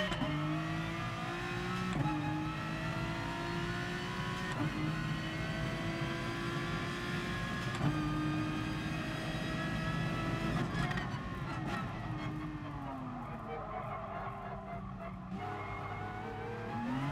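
A race car in Gran Turismo Sport revs hard through repeated gear shifts, the engine note rising and dropping in steady cycles, with tire skidding near the end.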